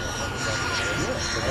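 Radio-controlled scale model helicopter flying at an air show, its engine giving a steady, fairly loud whine with a gentle pitch sweep, while an announcer's voice runs over it.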